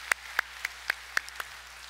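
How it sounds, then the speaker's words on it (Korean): A few sharp, separate claps from a church congregation at a Sunday service, about six evenly spaced hand strikes over quiet room tone, fairly soft and without a sustained roar. "우리 하나님께 감사의 영광의 박수 드리겠습니다"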